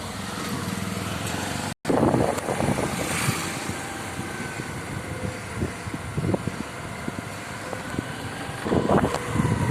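A new Nexon car on a road trip with a learner driver, a steady broadband engine and road rumble with wind buffeting throughout and a brief dropout near the start.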